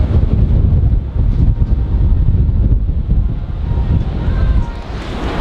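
Strong gusting wind batters the microphone on the open deck of a Finnish cruise ship in the middle of a foggy ocean, a loud continuous roar with faint wave noise beneath.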